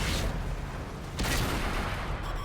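Tank cannon fire from a Cromwell light tank at close quarters in World of Tanks, heard as a dense, steady wall of battle noise with one sharper blast standing out partway through.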